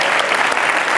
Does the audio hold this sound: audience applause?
yes